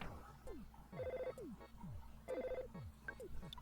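A video game telephone rings in two repeated bursts of an electronic bell tone, each about a third of a second long. A busy layer of game sounds with descending swoops runs beneath the rings at moderate loudness.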